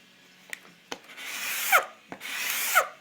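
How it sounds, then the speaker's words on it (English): A cheap scraper made from a Stanley blade scrapes across oiled wood in two slow, rasping strokes, close and fairly quiet, with a few light taps between passes. "I'm going to actually use my scrapers"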